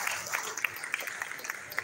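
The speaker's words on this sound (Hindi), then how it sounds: "बस उतनी ही तालियां आपने मेरे सम्मान में बजाई है।" An audience claps at a Hindi comic poetry gathering held in a Jain hall, with a dense patter of many hands at moderate loudness, a little distant, continuing steadily throughout.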